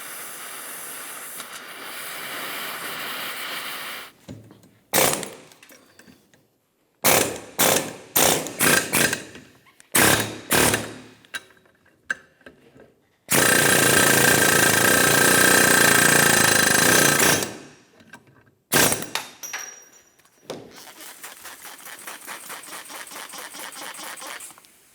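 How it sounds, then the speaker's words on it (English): An air chisel hammers a bearing race off a 1994-1997 Honda Accord front wheel hub in loud rapid bursts, some short and stuttering, one long sustained run, with hissing air between bursts. "you can heat this up and then drive it off with an air chisel of some sort"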